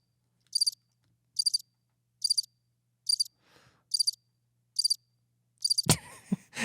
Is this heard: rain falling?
no